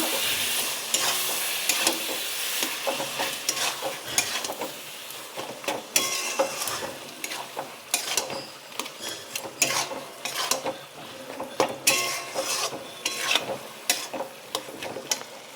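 Eggplant bharta cooked with a fish head is stirred in a pan, with irregular spatula clacks and scrapes against the metal over a low, continuous sizzle.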